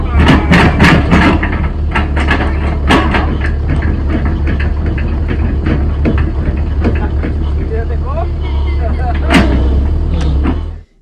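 A swing shovel excavator working nearby, its loud heavy diesel engine droning steadily throughout while sharp clanks and knocks of the machinery punctuate it, with talking mixed underneath.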